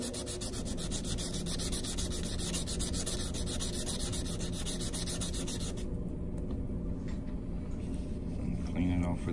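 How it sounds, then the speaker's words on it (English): Steady, continuous sanding of a coin ring made from a quarter, a loud close rubbing rasp that runs the whole time and eases slightly near the end. "So I'm going to sand it a little bit because it got kind of scratched up when I pushed it."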